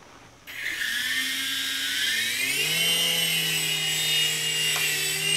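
A Cyma RC mini helicopter's rotor spins up for takeoff, a close, loud whine rising in pitch and then holding steady.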